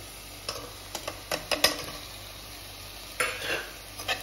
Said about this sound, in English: I'm going to add my prawns